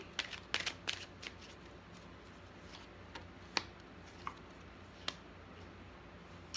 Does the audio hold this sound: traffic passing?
no